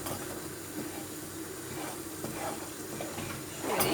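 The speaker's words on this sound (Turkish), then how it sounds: "iyice kavuracağım pembeleşene kadar" Chopped food is sautéed in a pan, with a steady close sizzle and occasional stirring scrapes throughout, growing slightly louder at the end.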